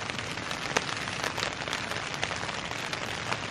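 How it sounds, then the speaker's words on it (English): Rain falls steadily on a tent in the Scottish Highlands, a dense, close patter with occasional heavier drops striking the fabric throughout. "Can you hear rain coming down?"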